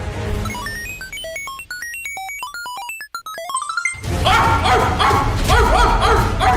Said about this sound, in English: A dog? Why would you be a dog?